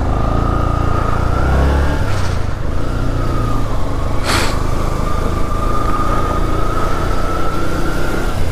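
A motorcycle engine runs loud and close, a steady rough idle droning throughout with a brief rise partway through, recorded while comparing a fuel-injected bike to a carburettor one.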